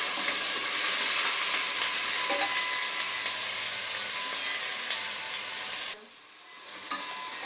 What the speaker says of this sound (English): Let it just fry for a minute since it will get cooked later in the cooker.